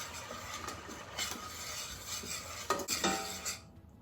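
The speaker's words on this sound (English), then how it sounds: "Going to give this a quick stir." A spoon stirs a hot cocoa mixture of white sugar, unsweetened cocoa powder, salt and water in a pot, making steady close scraping swirls with a few louder clinks against the side near the end.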